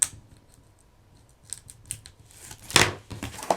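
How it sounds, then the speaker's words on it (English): Tape is peeled off cardboard in a run of short scratchy rips, growing louder toward one strong tearing burst near the end, close by and without talk. "I'm removing my tape"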